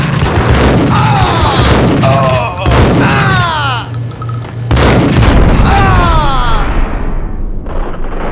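Gunfire booms in the video game Max Payne, with heavy thuds and shots repeating under layered voices and game sound, briefly dropping away before returning just as dense.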